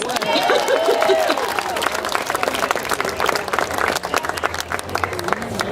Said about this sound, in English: So I think we should get a big round of applause.